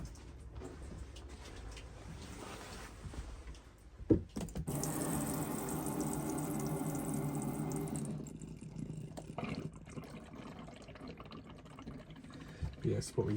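Water rushes through the pipes of a caravan, a broad steady gushing that starts abruptly, holds for several seconds and then fades, with a thump at the start and quieter plumbing noise around it.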